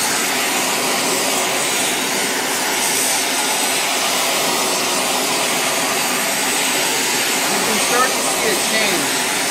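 A torch flame heats silver wire for annealing, giving a loud, steady roaring hiss that runs unbroken throughout.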